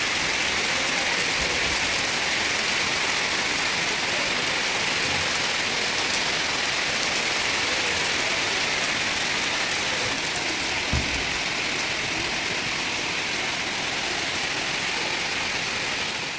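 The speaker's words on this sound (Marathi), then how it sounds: "घरी येऊन चहा ठेवते तर तोपर्यंत हा पाऊस चालू झाला होता" Steady morning rain pours onto a wet home terrace as a continuous, even hiss that stays constant throughout, with no one speaking.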